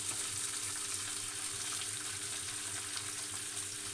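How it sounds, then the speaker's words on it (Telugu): Sanangi leaves dropped into a frying pan while making tomato chutney hiss with a steady, even sizzle that stays moderately loud throughout. "తర్వాత వచ్చేసి శనంగి ఆకు కూడా వేస్తున్నాను."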